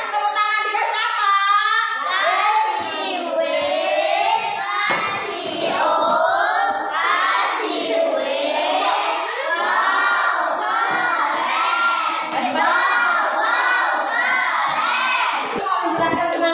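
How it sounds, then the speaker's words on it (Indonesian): A classroom of schoolchildren claps and cheers loudly together during a lesson, a steady, energetic burst of clapping mixed with high excited shouts throughout. "Oke, kasih tepuk tangan."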